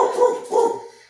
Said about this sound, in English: there's someone at the door, which is why the dog is going crazy